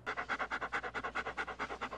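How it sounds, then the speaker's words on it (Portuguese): Rhythmic, steady panting of a dog in an anime episode, quick breaths repeating about five times a second, close and clear with no talking. "que bonitinho esse cachorro"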